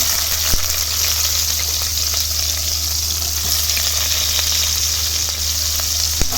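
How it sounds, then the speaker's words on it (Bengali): White cumin seeds crackle in hot oil in a home kitchen, with chopped onion to follow, giving a steady, close, even sizzle with small pops throughout and no talking. "এই জিরেটা ফুটে ওঠার সাথে সাথেই আমি দিয়ে দেব আগে থেকে কেটে রাখা পেঁয়াজ"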